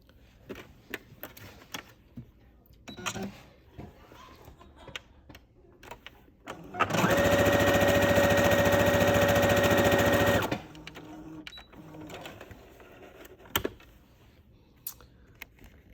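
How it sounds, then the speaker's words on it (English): Sewing machine running fast as it stitches bias binding along a fabric edge at a quarter-inch seam, one steady loud whirring burst of about three and a half seconds between quieter handling noises. "what I'm going to do is sew along this edge at about 1/4 inch"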